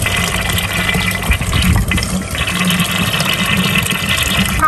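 Sparkling water gushes steadily from a public water fountain in Italy, a loud continuous rushing and fizzing stream that stays close and unbroken throughout.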